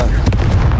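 Confringo fire spell in Hogwarts Legacy lets off a short, loud blast with a sharp burst near the middle, a single booming hit.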